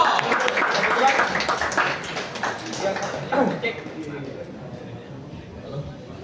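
Audience applause for a hip-dut band at an album launch press conference, a dense burst of clapping that fades gradually under a speaking voice.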